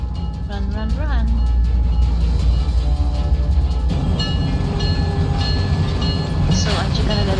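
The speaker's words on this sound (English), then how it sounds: "The train for the airport is about to depart." A train departs for the airport in the video game Syberia: The World Before, with a loud low rumble, squealing wheels and clanks. A brief whistle-like sweep is heard and a voice speaks over it.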